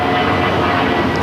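A JetBlue Airways Airbus A320 jet at LAX, bound for Cabo, gives a loud, steady engine roar close by.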